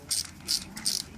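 Three quick, close ratchet clicks crack loose bolts during radiator and clutch removal on a Triumph Rocket 3 motorcycle, each burst short and crisp with brief pauses between.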